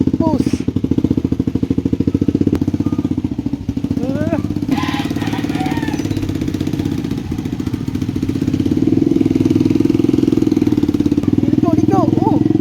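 A motorcycle engine runs steadily, idling and revving at close range through the whole stretch, with people talking over it and short bird-like chirps now and then.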